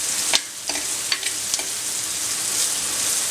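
Onion and garlic sizzle in a tempering for Brahmi leaf tambuli, a close hot-oil crackle with a few distinct stirring clatters early on, then a steady hiss.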